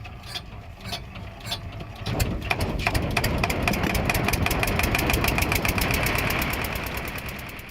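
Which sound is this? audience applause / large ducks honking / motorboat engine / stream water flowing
motorboat engine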